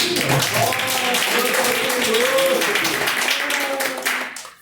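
A church congregation claps during a Portuguese-language worship service, rhythmic clapping mixed with voices singing or calling out, fairly loud, then fading out near the end.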